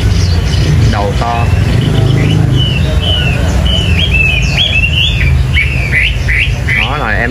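A Chinese hwamei songbird sings a run of bright, varied whistled phrases and trills up close, over a busy background of traffic and motorbike noise.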